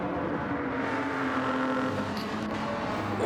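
BMW race car engine in Gran Turismo 7 on the Dragon Trail Gardens circuit, a continuous strained drone with a steady pitch, loud and close, without speech.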